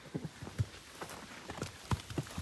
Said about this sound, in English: Here come the horses.